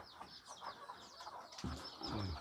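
Backyard chickens kept alongside ducks cluck softly in quick overlapping calls at feeding time, faint and somewhat distant, with a few dull low thumps partway through.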